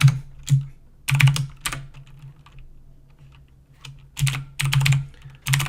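Typing on a computer keyboard in bursts of quick, close clicks separated by short pauses, with a faint low hum running underneath.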